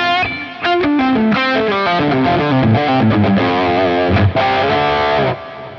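A distorted electric guitar lead tone from a Line 6 Helix plays a sustained melodic line with a wide Glitz reverb tail, loud and continuous, with no voices.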